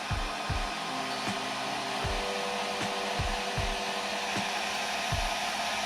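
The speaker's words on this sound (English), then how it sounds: "we take a hair dryer, and we call this heat setting the bait" Hair dryer blowing hot air to heat-set paint on a fishing lure, a steady close whoosh with faint low thumps recurring underneath.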